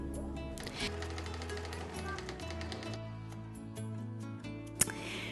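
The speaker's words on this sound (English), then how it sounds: "Sew the strips together using a half-inch seam allowance." A sewing machine joins fabric strips for a baby tag blanket, its needle tapping in quick, uneven bursts at close range alongside a low motor hum, with one sharp knock near the end.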